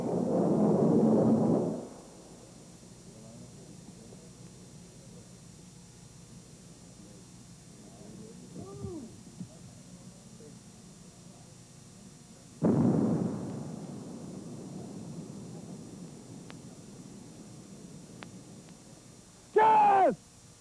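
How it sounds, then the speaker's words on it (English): A mine-clearing line charge detonates over a desert minefield during the Gulf War: a heavy roaring blast, a quieter stretch, then a second explosion and a brief late burst. "The rocket drags the line charge over the minefield, and it is detonated once it strikes the ground."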